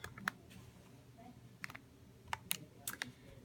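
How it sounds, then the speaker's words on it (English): Calculator keys being pressed in a quiet room to enter numbers, a handful of sharp, irregularly spaced clicks close by with brief pauses between bursts. "let's type that into our calculator."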